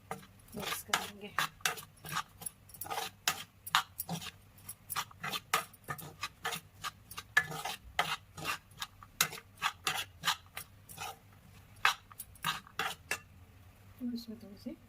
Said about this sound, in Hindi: सब कुछ इसमें मिक्स कर लेंगे